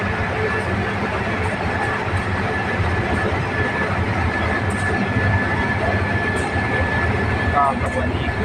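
A BTS Silom Line electric train in Bangkok rolls past with a steady, loud rumble and whine that holds at an even level throughout, broken by faint metallic clicks near the end.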